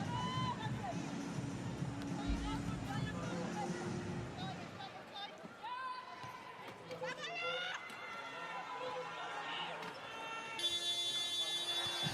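At a 2012 London Paralympic wheelchair basketball game between Mexico and Germany, a loud electronic end-of-quarter buzzer sounds near the end, cutting through crowd noise and ongoing commentary.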